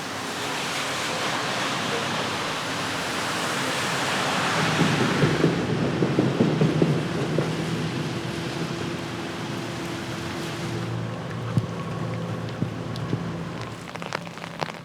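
Steady rain pours at night through a Japanese city, a dense continuous hiss with louder spattering and scattered drips toward the end, no voices.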